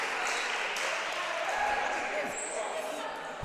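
Crowd applause fills a high school basketball gym for the coach in a White Pine Wolverines game, a steady wash of clapping and crowd noise throughout, with a voice talking over it.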